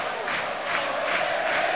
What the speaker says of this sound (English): Everyone is up, jumping, singing, clapping in unison on all four sides of Fratton Park.